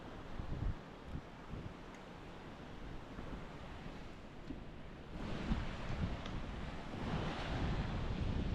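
Waves roll onto a beach in Cyprus in a continuous, moderately loud wash of surf, with gusty wind buffeting the microphone and the roar swelling toward the end.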